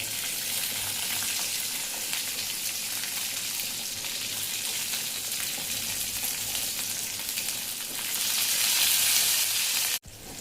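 Garlic and chillies frying in a pan give a steady close sizzle and crackle that swells near the end and cuts off suddenly, with no talking.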